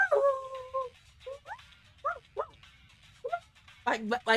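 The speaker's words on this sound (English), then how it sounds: "my dog will literally walk through and be like" A dog whimpering and yipping in short, pitched moans and whines, close and intermittent, ending in a louder bark-like burst.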